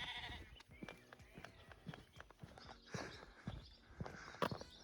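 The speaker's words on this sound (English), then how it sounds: "Just a chorus of sheep and birds at the moment." Sheep bleat and birds call at dawn in a car park at Horton-in-Ribblesdale in the Yorkshire Dales, a faint scattered chorus of overlapping bleats and chirps with some brief knocks near and far.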